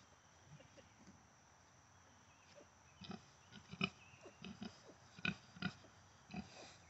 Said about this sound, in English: The pigs are fighting.